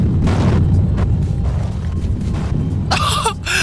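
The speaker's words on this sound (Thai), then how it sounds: "นี่ขนาดยิงจากระยะไกลก็ยังโดนไอ้นี่เลยอุกกาบาตของมันอะ" Boss meteor strikes in Roblox Combat Warriors, heavy low rumbling booms rolling continuously, with sharper bursts near the end.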